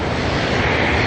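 A Gulfstream jet comes in to land at Auckland Airport, its engines making a steady, broad roar that holds at one level for the whole moment, with no voices.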